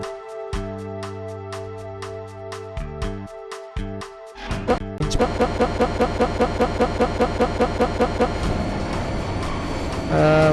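A train pulls away in a first-person shooter video game set during a train assault: tonal horn or engine sounds give way to loud, rapid rhythmic clattering of wheels over rails that speeds up as it departs.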